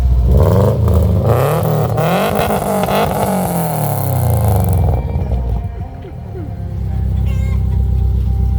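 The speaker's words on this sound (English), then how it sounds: "That is straight pipe Subaru race car." Straight-piped Subaru 2.5RS rally race car, custom performance exhaust, revving hard with loud rising and falling engine sweeps, then settling to a rough, throbbing idle close by.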